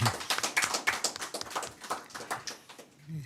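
An audience at a church committee public hearing claps for the speakers, with loose, uneven individual claps that thin out toward the end.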